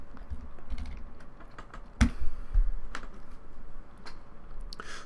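Quick, uneven keystrokes on a computer keyboard enter a username and password at a login screen for an LTS NVR, close and clear with a louder key press partway through.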